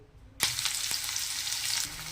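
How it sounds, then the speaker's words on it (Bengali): Chopped onion dropped into hot oil left from frying bitter gourd, for a spicy bitter gourd and potato dish, bursts into a loud, steady sizzle after a quiet start, with a few stirring knocks. "ওর ওই তেলেই দিয়ে দেবো পেঁয়াজ কুচি"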